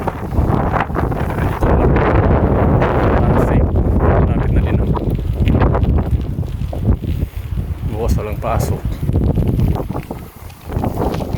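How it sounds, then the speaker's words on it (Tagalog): Strong wind gusts roar and buffet the microphone outdoors, a loud, continuous rumbling rush that surges and dips, with a person talking intermittently over it. "Ang lakas ng hangin."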